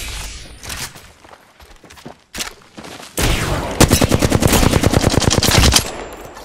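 Automatic gunfire in the shooter game Apex Legends, loud and close, with scattered shots early and then a long sustained rapid burst of evenly spaced rounds, alone without speech.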